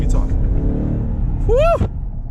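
Jeep Trackhawk SUV engine giving a deep low rumble that swells into a short rev, heard close and loud under a voice.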